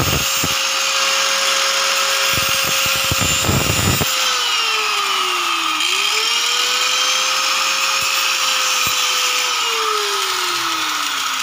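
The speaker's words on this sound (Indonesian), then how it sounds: "Kita potong ini ya. Kita potong mas. Setelah itu kita haluskan ya." Power tool cutting and smoothing a round PVC pipe for a greenhouse frame, loud and close, with a steady high whine that dips and rises in pitch as the load changes, plus a burst of rough grinding early on.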